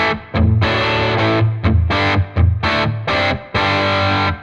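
Heavily distorted electric guitar chords through a Tonex amp tone model ring out in loud, sustained bursts separated by short gaps, thick and saturated, with no voices.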